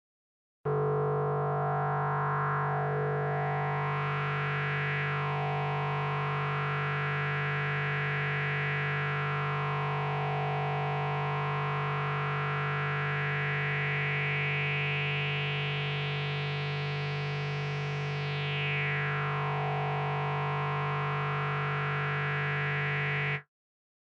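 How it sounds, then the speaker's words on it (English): A loud, buzzing, metallic FM synth drone on a Cherry Audio Crumar Spirit holds one pitch while a resonant filter sweeps up and down through it, brightening and darkening repeatedly. "it's fun to take those really harsh FM sounds and shape them with a filter"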